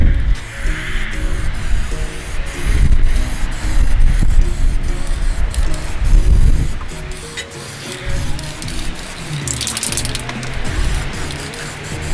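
An aerosol spray paint can hisses loudly and close while coating the front end of a van, a sustained rough spray with brief pauses and shifts in intensity.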